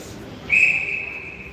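A referee's whistle blows once to end a timeout in a girls' ice hockey game, a single sharp, high blast lasting about a second over quiet arena background.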